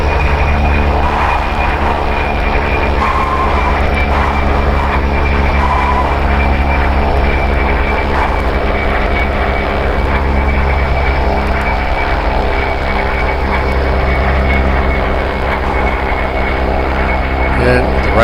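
Steady, loud droning of OV-10 Bronco propeller engines in the DCS flight simulator, a constant hum with layered tonal whine after landing on the ground, unbroken for the whole stretch.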